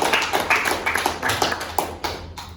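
Students in a vocational high school classroom clap briefly in a light, uneven patter of separate claps that thins out over a couple of seconds, fairly close and moderately loud.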